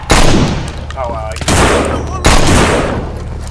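Loud, close gunshots from the zombie survival game No More Room In Hell ring out as three heavy booms with long decaying tails.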